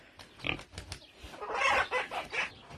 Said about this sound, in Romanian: uitați-vă la acești porci maronii și foarte murdari